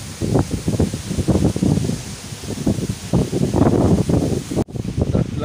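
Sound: strong cold wind rustling trees

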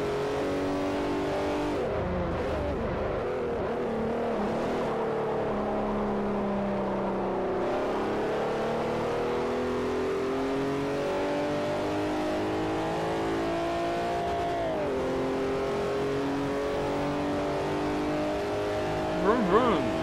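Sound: car engine revving in Forza Motorsport 4 video game

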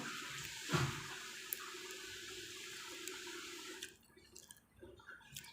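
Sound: water running while the speaker bathes

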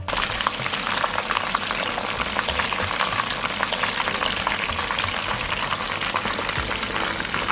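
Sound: cheese balls made from instant noodles frying in oil

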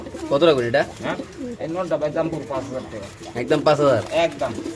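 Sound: pigeons cooing at pigeon seller

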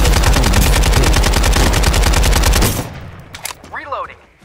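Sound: gunfire in Farlight 84 video game

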